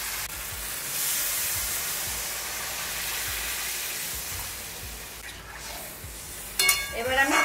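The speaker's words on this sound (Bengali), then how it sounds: "গরম জল দিয়ে দিচ্ছি।" Hot water poured into a pan of spiced mung dal that has been frying, giving a steady broad sizzling hiss that fades toward the end, with some stirring and a faint voice at the close.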